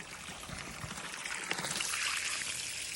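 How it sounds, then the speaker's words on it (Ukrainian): Muddy water gushes and splashes in a steady, noisy stream from a pipe while a clay-soil well is pumped, fairly quiet and close, with no voices. "Вода до цих пір іде грязна"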